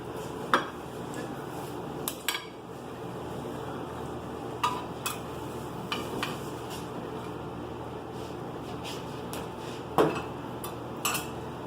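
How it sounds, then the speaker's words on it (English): Knife and serving utensils clink against a pan while a big slice is cut from a smoked BBQ meatloaf, giving a few sharp metallic taps spread across quiet background noise. "Take a nice big slice out of here."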